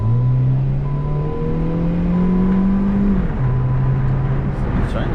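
Engine of a 2012 used car droning steadily while driving, its pitch rising, then dropping briefly as the gear changes, before settling lower; a faint voice can be heard underneath.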